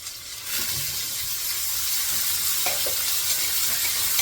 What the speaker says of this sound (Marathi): हा मुळा चांगला जो किसून घेतलेला तो परतून घेते